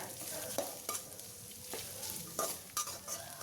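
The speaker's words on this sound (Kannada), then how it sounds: "ಈರುಳ್ಳಿ ಮತ್ತು ಹಸಿರು ಮೆಣಸಿಕಾಯಿನ ಸ್ವಲ್ಪ ಹಸಿ ವಾಸನೆ ಹೋಗೋ ತನಕ ಫ್ರೈ ಮಾಡ್ಕೊಬೇಕು." Onions and green chillies frying in oil for a spicy jeera chicken fry, a soft steady sizzle broken by several sharp spatula scrapes and taps against the pan, close but fairly quiet, no talking.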